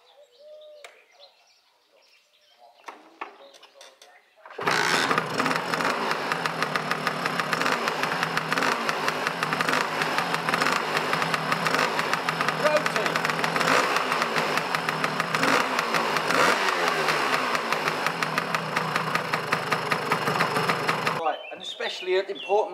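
A Lambretta BGM V4 Sport Clubman scooter engine starts up after quiet background sounds and idles steadily with a loud, buzzing, even two-stroke rhythm for about sixteen seconds, then cuts off.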